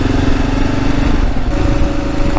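A Kawasaki KLR 650 motorcycle engine under way on a long ride, a loud, continuous close-up drone with steady thrumming pulses and wind rush, no voices.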